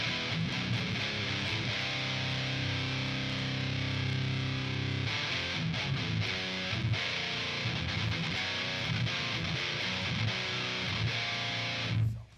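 A distorted electric guitar run through a Treadplate rectifier amp plugin plays sustained chords and then choppier riffing, a saturated, moderately loud tone alone with no talking, ending abruptly.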